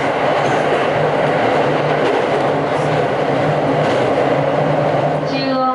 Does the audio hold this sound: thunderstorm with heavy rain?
no